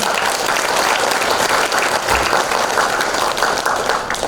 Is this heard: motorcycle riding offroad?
no